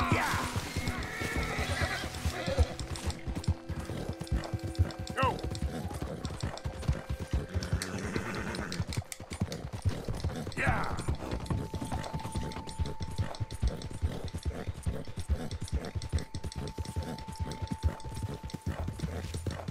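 Horse hooves clip-clop steadily in Red Dead Redemption 2, a close, regular walking rhythm running throughout over game ambience, with occasional whinnies and faint mechanical clicks and no talk.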